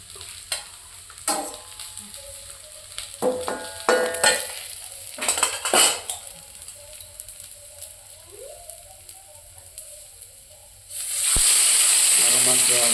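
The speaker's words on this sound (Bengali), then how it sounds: "এই দেখো, মাছ কিন্তু ভাজা হয়ে গেছে।" Native fish fry in a pan with low, scattered sizzles and clinks of a utensil, then a sudden loud, steady hiss of frying rises near the end.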